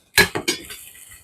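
Plates being handled in a kitchen, clinking together in three sharp, close ceramic knocks followed by a brief fading ring.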